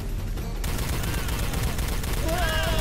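Gunfire in the video game Star Trek: Elite Force II, a dense rattling burst of shots over game sound effects, with rising tonal effects near the end.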